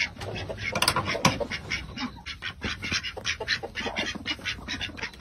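A duck quacks repeatedly in quick, irregular squawking calls, close and fairly loud, with several overlapping quacks suggesting more than one bird.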